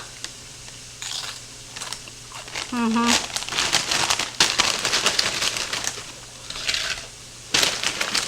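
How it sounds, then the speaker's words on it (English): Doritos tortilla chips being crushed inside a plastic Ziploc bag, giving bursts of crinkling, crackling crunches in several separate rounds, close and fairly loud, with a brief voice and background sounds in between. "put 4 cups of these Doritos into a Ziploc bag so we can kind of break those up a little bit"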